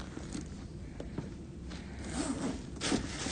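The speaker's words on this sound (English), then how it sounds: "So you have this full zip closure, keeping your items secure" A Louis Vuitton tote bag's full zip closure is pulled, giving a steady rasping zipper run with a few sharper scrapes near the end, close and fairly quiet.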